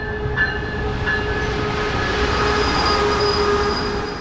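A train rolls along coastal tracks near San Diego, a loud continuous rumble of wheels on rail with faint squealing and steady clatter, heard alone without talk.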